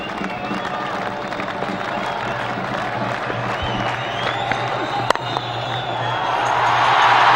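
A large cricket crowd at a Pakistan versus India match in the 1999 Sharjah Cup keeps up a broad, steady roar that swells louder toward the end, with a sharp crack partway through.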